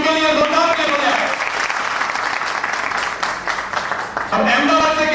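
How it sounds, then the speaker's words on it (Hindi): Loud, steady applause from a live audience at a Gujarat gathering, sustained throughout with a voice speaking over the clapping at the start and end. "इनके लिए जोरदार ताली हो जाए"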